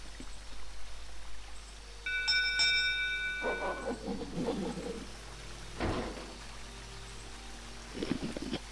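A doorbell in the video game Jack Keane gives a short, bright chime, a few ringing tones layered over a steady ambient game background, with no speech around it.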